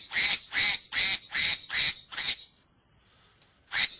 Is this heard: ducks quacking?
yes